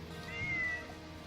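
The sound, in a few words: cat meowing, sound effect in role-play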